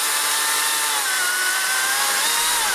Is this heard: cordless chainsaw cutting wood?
yes